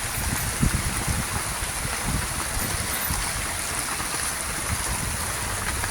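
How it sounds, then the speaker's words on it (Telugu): Steady rain pours down over a maize field, a dense continuous hiss of drops striking leaves and ground, close and enveloping with no pauses throughout. "కానీ ఎంత మంచి వర్షం పడుతుంది"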